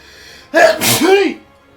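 One sharp, loud sneeze close by, a quick intake of breath bursting into a noisy expulsion, with quiet before and after.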